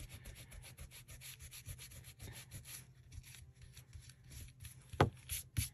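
A glue eraser rubs back and forth across paper during a paper-craft project, making quick, rhythmic scratchy strokes close by. Two heavier bumps come near the end.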